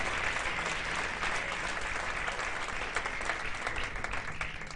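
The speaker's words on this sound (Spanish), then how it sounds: "un aplauso al Señor" A church congregation in Rancagua, Chile, claps for the Lord, sustained, even applause from a full room that stays loud and unbroken throughout.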